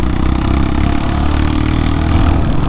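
A Royal Enfield motorcycle engine runs on a dirt flat track, giving a loud, continuous low thrum with a steady pulsing beat that swells slightly toward the end, with no talking.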